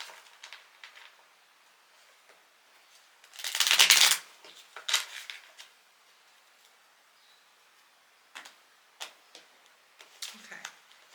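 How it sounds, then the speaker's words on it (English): A deck of tarot cards is shuffled close by in quiet surroundings, with one dense riffling burst followed by lighter flicks, taps and card snaps scattered across the rest of the stretch. "let me give this a good old shuffle."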